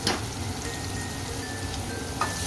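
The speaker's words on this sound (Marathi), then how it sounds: "कांदा फ्राय करून घेते चांगला कांदा फ्राय होताना थोडं मीठ टाकून घेते" Chopped onion frying in a pan with hing, a steady close hiss and sizzle running unbroken throughout, with a faint clink near the start and another near the end.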